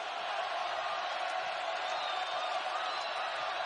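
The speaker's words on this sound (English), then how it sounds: "this crowd coming to their feet as Iowa State ventures one final time into the offensive zone" College basketball crowd at an Iowa State game against BYU, a dense, steady roar of thousands of fans rising to their feet, sustained and fairly distant-sounding, with faint whoops on top.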